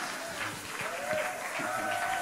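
A church congregation applauds and cheers in a short, continuous wash of clapping and crowd noise heard from a moderate distance, with a voice faintly present beneath.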